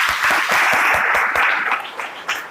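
A church youth gathering audience breaks into steady applause for someone speaker, many hands clapping together in a full, continuous wash that holds evenly before tapering slightly near the end.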